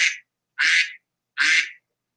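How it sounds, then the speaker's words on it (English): A duck quack sound effect plays three times in a row, each a short, nasal, raspy quack separated by clean silence, clear and close. "That's the first duck."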